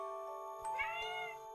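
A cat meows once in a video game, a short tonal call rising and falling over steady background game music.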